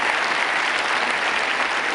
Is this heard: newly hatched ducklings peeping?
no